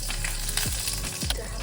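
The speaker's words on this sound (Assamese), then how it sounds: "তেলখিনি গৰম হ'ল। এতিয়া মই ইয়াত অকণমান পাঁচফোৰণ দিছোঁ আৰু কেঁচা জলকীয়া দিছোঁ।" Panch phoron and green chilies hitting hot oil in an Assamese kitchen, giving a steady close sizzle broken by a few sharp crackles and spits.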